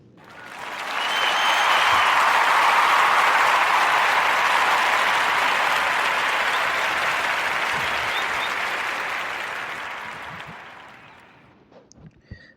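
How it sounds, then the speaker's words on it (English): A crowd applauds in a long, loud, steady burst of clapping that swells quickly, holds for several seconds, then tapers off, with no talk over it. "clap it up for young King Corian Evans."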